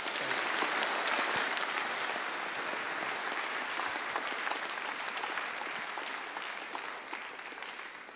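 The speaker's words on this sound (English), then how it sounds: "Please give them a round of applause." Audience at a security conference applauds the end of a talk on GSM mobile device geolocation: a loud, continuous roar of clapping from a large hall, holding steady for several seconds before easing slightly.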